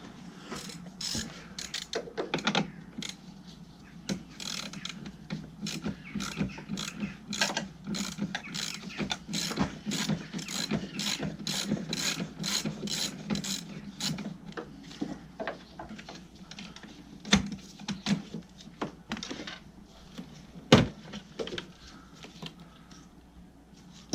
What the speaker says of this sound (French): Donc ici une clé de 13.